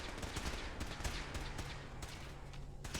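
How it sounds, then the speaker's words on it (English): Steady, continuous gunfire in Fallout 4, a dense rattle of distant-sounding shots filling the whole stretch at moderate loudness. "shooting coming from that way."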